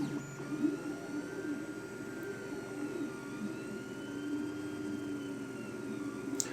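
A Creality Ender 3 3D printer with a silent board upgrade is printing while its bed moves, producing a quiet, steady motor whir and hum with faintly wavering whining tones.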